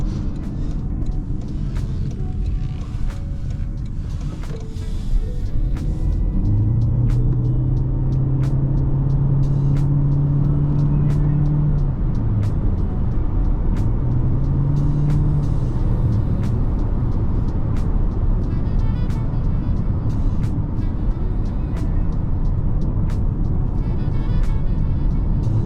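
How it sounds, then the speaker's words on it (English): A 2024 Toyota C-HR 1.8 hybrid with 140 HP, driven in sport mode, fills the cabin with a steady, loud road-and-engine drone, and whining powertrain tones rise and fall as it accelerates. "Let's pop it into sport and take a ride here to test the performance."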